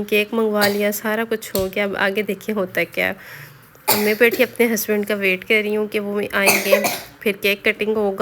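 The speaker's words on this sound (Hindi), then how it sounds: "तो वो खांसी कर रहा है।" A sick young boy coughs in the background of a home, the coughs faint and brief beneath someone talking close and continuously.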